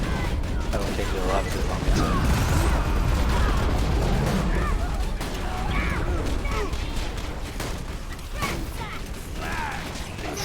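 Axton's deployable turret in Borderlands 2 fires rapid, dense bursts mixed with mechanical clatter and impacts, continuous and close, while a voice speaks over the gunfire.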